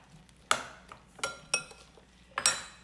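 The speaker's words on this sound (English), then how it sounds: "now we're gonna stir this up" A utensil clinks against a bowl while a mayonnaise mixture is stirred, giving four sharp metallic knocks spaced unevenly, close and clear against a quiet kitchen.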